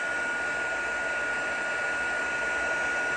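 Heat embossing gun blowing steadily over embossing powder on a card, a constant loud fan-and-heater whoosh with an even hiss and no breaks, heard up close and alone.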